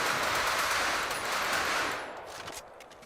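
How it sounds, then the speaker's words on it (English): Sustained automatic fire from a machine pistol in a FiveM game sound pack, a loud rattling stream of shots that weakens partway through into scattered trailing bursts. "you got machine pistol"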